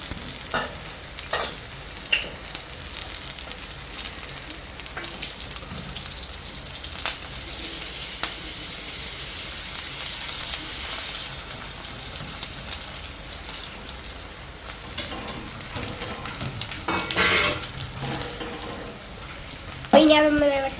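Beef fries in a pan with a steady, loud sizzle that runs throughout, broken by scraping stirs and spatula clatter, and a sharper burst of sizzling and scraping near the end.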